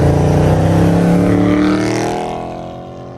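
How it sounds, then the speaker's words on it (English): A 2020 Dodge Charger Scat Pack with the 392 engine gives off a loud, deep, steady engine drone that holds for about two seconds and then fades as the car pulls away, with no talking over it. "I love the sound of the Scatpack."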